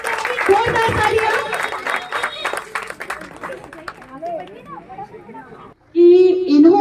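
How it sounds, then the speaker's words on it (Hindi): A crowd claps for women being honoured at an International Women's Day gathering, brisk applause under a speaker's voice for a few seconds, then dying away as talk carries on alone. "से जोरदार तालियां"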